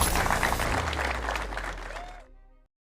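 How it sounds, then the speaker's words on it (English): Audience applauding after a military oath-of-office ceremony in Newport News, Virginia; dense, steady clapping from a crowd that tapers off before cutting to silence. "Give them a round of applause."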